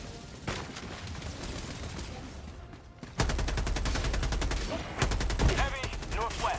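Penetrator rifle bursts in Helldivers 2 on a Helldive difficulty mission, rapid rattling gunfire loud and close in short runs, then longer sustained fire after a brief lull, with battle noise and a voice underneath.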